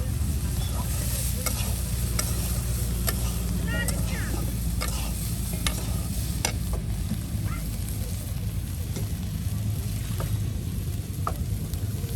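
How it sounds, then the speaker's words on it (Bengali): Soybeans being fried in a pan, a dense continuous sizzle with stirring scrapes and clicks, loud and close throughout, with faint voices in the background. "দেখুন কত সুন্দর করে একদম সয়াবিনগুলো ভেজে নেওয়া হলো"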